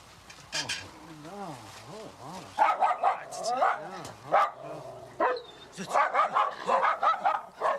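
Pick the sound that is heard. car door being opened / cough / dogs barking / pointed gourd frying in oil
dogs barking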